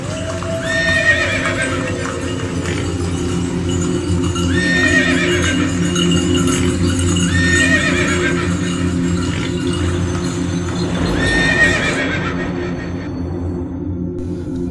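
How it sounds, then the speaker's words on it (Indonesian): A horse clip-clops steadily while neighing and whinnying repeatedly, loud and close, used as a story sound effect with jingling harness bells, about a dozen seconds of continuous hooves before fading. "Sora talapok kuda kadenge hawar-hawar."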